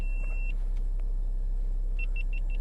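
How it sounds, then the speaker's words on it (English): A camera overheating and switching itself off gives four short, evenly spaced high beeps inside a 2013 Volkswagen, after a steady tone at the start, all over a low continuous rumble. "that's one of my cameras switching off"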